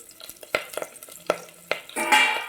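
Chopped green chillies and curry leaves fry in oil in a pan for a fenugreek-leaf rice dish, with sharp stirring clinks and scrapes, then a loud burst of sizzling near the end.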